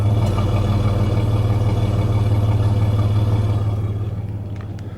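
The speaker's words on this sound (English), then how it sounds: "give you a little exhaust clip. It's got a very nice sound." A 1996 Chevrolet Blazer LS idles with a steady, throbbing low exhaust rumble close by, holding even for several seconds before easing slightly at the end.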